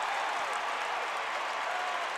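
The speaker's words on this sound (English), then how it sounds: "Crowd on their feet here at the Spectrum Center." A packed arena crowd at the Spectrum Center roars and applauds in a steady, dense wash of noise after a late made shot in a Michigan versus UNC men's college basketball game.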